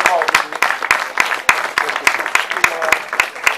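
A small audience at a cultural evening in Caspoli, Italy applauds a speaker with a short run of sharp claps, some louder than others and fairly evenly spaced.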